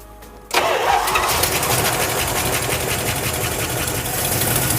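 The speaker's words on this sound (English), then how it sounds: "We're gonna fire off the motor for the very first time on the stock gas tank" A junkyard Plymouth Cuda's engine fires for the first time on its stock gas tank, cranking briefly before catching into a loud, rough, continuous idle that rumbles close and steady.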